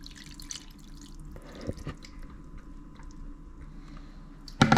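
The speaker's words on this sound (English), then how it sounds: "Time to pour the soup." Ramen soup poured into a bowl of instant noodles, heard as a soft, quiet liquid trickle and dripping in a kitchen, with a sharper clatter right at the end.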